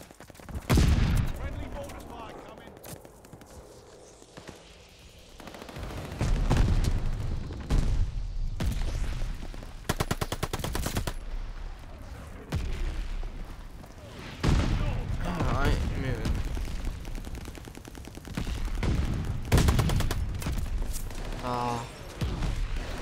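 Call of Duty: Vanguard gunfire comes in long, loud bursts of rapid shots, broken by booming impacts and brief lulls. A player talks intermittently over the shooting.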